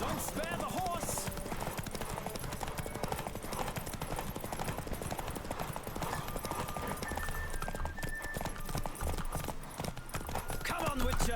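Horse hooves pounding in a steady galloping rhythm during a race in The Witcher 3 video game, with voices shouting over the hoofbeats throughout.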